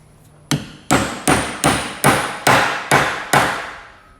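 A hammer drives a metal punch through a hat in seven loud, sharp strikes at an even, steady pace, each with a short ringing decay, after a brief quiet lead-in.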